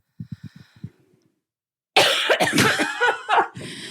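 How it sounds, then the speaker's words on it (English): A woman gives a short burst of about six quick, dry coughs up close, then a trailing throat sound. After a short silence, louder excited talk and laughter follow. "I am about to cough."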